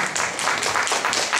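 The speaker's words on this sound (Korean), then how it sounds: "자, 큰 박수 주세요." An audience at a trot singing contest's preliminary round at the Palgongsan autumn foliage song festival claps in a dense burst of applause, lively and fairly close, with rhythmic surges of hand claps running through the whole moment.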